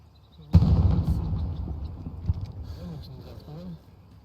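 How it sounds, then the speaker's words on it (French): A single deep cannon boom in Hell Let Loose thunders nearby and rumbles away slowly, with faint voices and scattered noises trailing after. "Il y a un canon qui tire en face."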